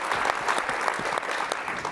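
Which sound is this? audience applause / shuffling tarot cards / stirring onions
audience applause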